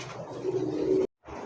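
Raj-golla pigeon giving one close, low throaty coo lasting about a second, then a brief silence before a faint resumption.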